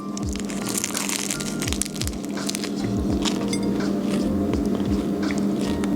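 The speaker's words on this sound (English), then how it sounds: "I can really taste all the layers just as I crunch down into it" Crisp, crackling bites and chewing into a flaky butter croissant from a French bakery, close and distinct over a steady hum of bakery background noise.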